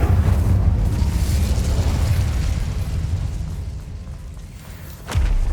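An Incendio fire spell is cast in the Hogwarts Legacy video game: a loud, sustained roaring rush with a low rumble that slowly eases, then a sharp burst near the end.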